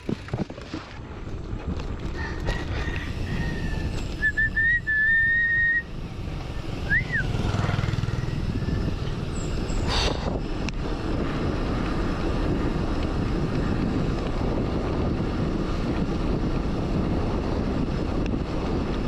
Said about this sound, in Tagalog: Oh, grabe ang hangin.